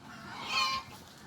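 A chicken in a chicken run gives a single short, honking cluck, faint and alone on a frosty day.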